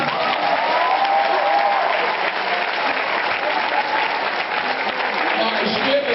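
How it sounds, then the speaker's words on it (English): A crowd at a Brooklyn high school graduation ceremony applauds loudly and continuously, a thick, even roar of clapping with some crowd noise mixed in throughout. "Thank you for the applause"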